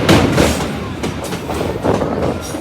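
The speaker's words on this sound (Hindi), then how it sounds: "वापस से हम आ चुके हैं किऊल जंक्शन रेलवे स्टेशन" A train rumbles loudly at Kiul Junction railway station in Bihar, a steady close roar of rolling wagons with rhythmic clanks and wheel noise throughout.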